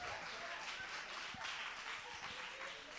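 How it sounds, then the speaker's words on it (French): An audience at a girls' school contest semifinal on a television programme applauds steadily, a dense wash of clapping from many hands at moderate distance. "On applaudit vite."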